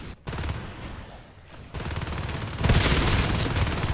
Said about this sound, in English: Shotguns in the hive